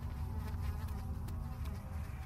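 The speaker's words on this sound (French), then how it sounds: "Il y a des putains de mouches qui nous emmerdent." In the horror game Amnesia, a swarm of flies drones on without a break, a close and steady buzzing hum that holds the same level with nobody speaking.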